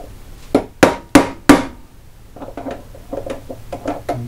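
A heavy hammer strikes metal while assembling flywheel magnets on a Model T Ford, four sharp, loud blows in quick succession, followed by a run of lighter, quicker taps.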